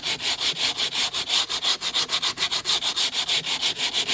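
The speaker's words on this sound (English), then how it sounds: "Sanding is supposed to make the wood smooth" Sandpaper rubbed briskly over wood in quick, even back-and-forth strokes, a loud, close, regular scratching rhythm with no voices.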